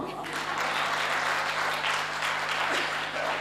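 Audience applause at a Hindi comedy stage show, a sustained wash of clapping that stays steady and fairly loud throughout, with a low hum running underneath.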